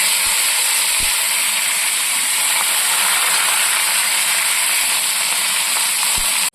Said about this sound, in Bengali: পেঁয়াজটাও ভেজে নেব